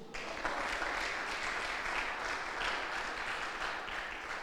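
A church congregation at a Bible study applauds the Lord, steady, sustained clapping that fills the room evenly from start to finish.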